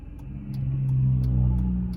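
A car engine idles and rises in a low, steady rumble close by, swelling slightly in the middle, with faint ticking above it and no talk.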